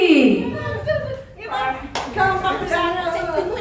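Tepuk nyamuk hand-clapping game led for a school group, with sharp hand claps mixed under an instructor's voice and group chatter throughout.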